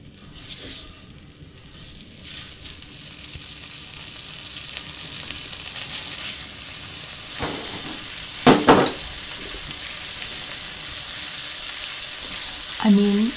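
Pork belly searing with butter on a Korean barbecue grill gives a steady, close sizzle and crackle throughout, with brief clatters of utensils and a rise in spitting near the end.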